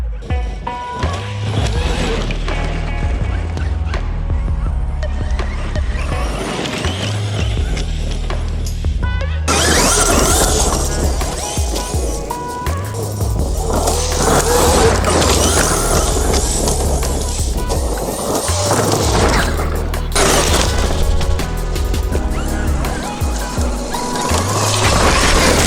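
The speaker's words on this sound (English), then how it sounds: "There was its first crash, guys. We rolled her over." A Traxxas XRT 8s RC truck fitted with an upgraded Protek servo tears through dirt and then crashes and rolls over, giving loud motor whine, rattling and tumbling clatter across the whole stretch.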